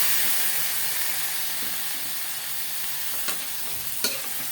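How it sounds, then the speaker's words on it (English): Marinated chicken for chicken afritada sizzles steadily in a hot pan, a loud, close, even frying hiss with a couple of faint clicks near the end. "Let's add our marinated chicken."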